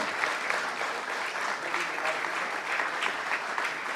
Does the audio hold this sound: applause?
yes